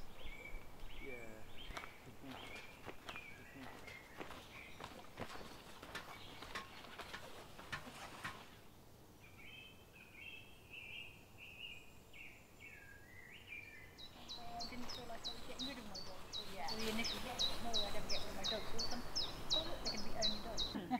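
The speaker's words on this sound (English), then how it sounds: "Cuckoos in the wood as well." Faint birdsong drifts through a Devon wood where cuckoos are calling, with repeated distant phrases rising and falling. Quiet voices of people talking nearby sit underneath.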